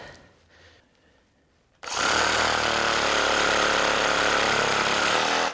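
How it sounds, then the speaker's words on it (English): A Sawzall reciprocating saw starts abruptly after quiet handling sounds and cuts through deer legs with a loud, harsh, continuous buzzing rasp that runs steadily for several seconds before stopping. "I'll come back with the Sawzall here momentarily"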